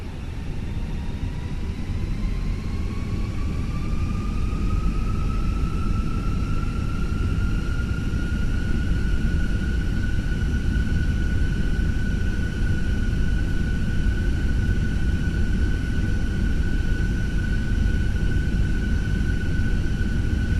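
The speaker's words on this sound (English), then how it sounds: "Let's go ahead and spool it up." Airbus A320 engines spooling up to 50% N1 in Microsoft Flight Simulator, with the brakes set in icing conditions. A steady jet roar carries a whine that rises in pitch and then holds, loud and continuous with no talk.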